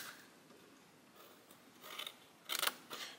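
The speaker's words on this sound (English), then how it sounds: "we're going to go in and cut these score lines" Small paper snips cutting along score lines on a paper gift box, faint quiet snipping and rustling that builds to a few sharper crisp cuts near the end, with no voices.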